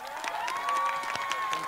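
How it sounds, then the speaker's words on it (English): A graduation crowd at Ukiah High School applauding and cheering, with steady dense clapping and a whistle-like tone running through, loud and continuous. "Another round of applause for these instructors and all of their teammates"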